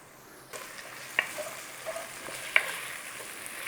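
Green chilli and salt frying in ghee in a pan, a steady soft sizzle throughout with a few sharp crackles and small pops rising above it.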